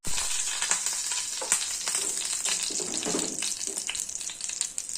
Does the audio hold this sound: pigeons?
no